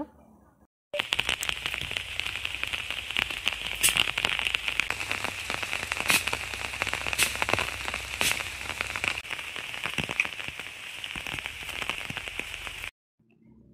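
Steady rain pours down close by, a dense continuous hiss with scattered louder drops pattering on surfaces, starting and stopping abruptly.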